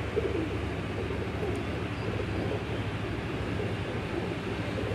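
Nil Dami breed pigeons from a Faisalabad loft coo in a low, steady murmur of overlapping calls, close and continuous, with a soft rushing background and no talk.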